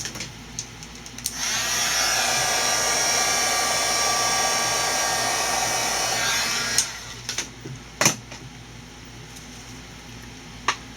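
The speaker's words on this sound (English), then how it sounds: "I can hit that with my heat gun" A heat gun dries paint on a craft project, starting with a sharp click, then a loud, steady blowing whine for about five seconds before cutting off, followed by a few handling clicks and knocks nearby.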